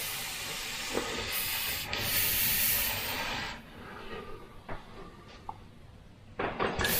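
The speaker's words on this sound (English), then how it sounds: "back in with the airbrush" An airbrush sprays paint in a steady hiss through the first few seconds, then shorter spraying bursts with quiet gaps while black is laid into an airbrushed lighting piece.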